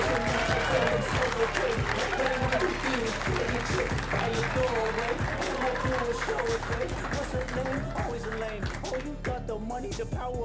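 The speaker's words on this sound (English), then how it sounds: "you guys start cheering right now" A comedy club audience cheers and claps as a comedian is brought to the stage, dense applause under a thumping music beat that thins toward the end.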